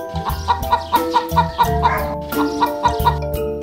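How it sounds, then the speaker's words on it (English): A hen clucks in a quick, steady run of short, sharp clucks, close and loud, with no talking. "Hen."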